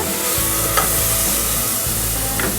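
Ground shallots sautéing in a pan over a medium flame give a steady, close sizzle, with a few brief scrapes and stirs breaking through the continuous frying hiss.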